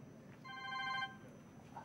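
A telephone gives one soft electronic ring, a tonal burst of under a second, over a quiet room hum with no talking.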